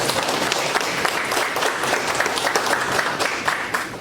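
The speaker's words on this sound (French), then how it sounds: "Je vous demande d'applaudir le directeur des programmes." An audience at a project launch event in Caracol applauds a program director, giving a dense, lively burst of clapping with scattered sharper hand claps and a fairly near, full sound throughout.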